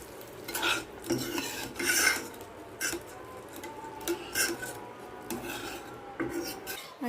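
A spoon scrapes and rasps around a pot as a tempering of dried red chillies is stirred into dal made with small fenugreek leaves, producing repeated close gritty strokes with uneven rhythm.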